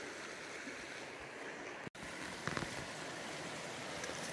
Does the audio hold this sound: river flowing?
yes